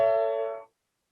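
A major triad played on trombone, three notes held together as a single bright, sustained chord that stops abruptly after roughly two-thirds of a second, alone without any voice.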